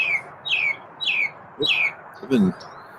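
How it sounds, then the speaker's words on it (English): Small pet bird chirping indoors: five short, bright descending chirps in steady rhythm, fairly close and moderately loud, with a lower rougher squawk near the end over faint room noise. "Even Chirpy is getting involved in this"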